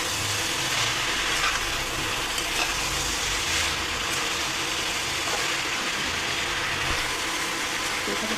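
Chili spice frying in a pan for a big-fish curry, a steady close hiss and sizzle that holds evenly throughout with a low background hum.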